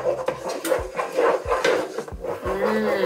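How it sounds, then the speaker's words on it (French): A wooden spoon scrapes and knocks around a pot, stirring flour into butter for a roux, with dense rubbing and irregular knocks up close, loud and continuous. "On ajoute la farine et on mélange avec une cuillère de bois"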